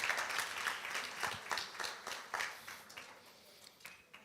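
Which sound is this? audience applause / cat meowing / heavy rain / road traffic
audience applause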